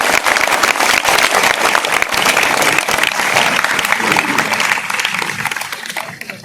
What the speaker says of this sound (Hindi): जोरदार ताली से इस्तकबाल कीजिए।